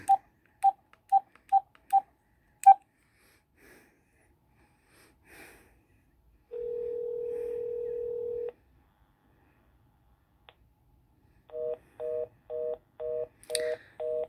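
A telephone keypad being dialed: a quick run of five short beeps, then one sustained steady tone, and finally a series of evenly spaced dual-pitched keypad tones, all clear and close with quiet pauses between.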